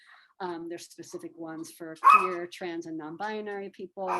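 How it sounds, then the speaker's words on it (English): A pet dog barks once at home, a short sharp bark in the middle of a woman's ongoing speech, partly masked by her voice. "Sorry about my dog, everyone."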